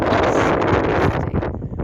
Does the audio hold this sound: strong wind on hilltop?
yes